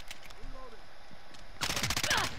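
Full-auto gunfire from a video game: after a quieter stretch with a few faint sounds, a loud, rapid burst of shots rattles out.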